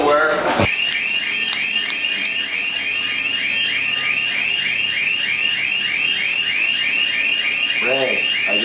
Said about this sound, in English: I just set off your burglar alarm